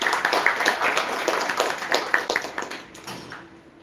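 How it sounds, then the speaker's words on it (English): A round of applause from an event audience at Wireframed 2024, many hands clapping briskly and evenly at close range before thinning out near the end. "round of applause for these set of guys"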